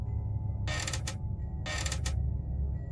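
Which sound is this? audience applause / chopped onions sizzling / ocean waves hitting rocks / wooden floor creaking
wooden floor creaking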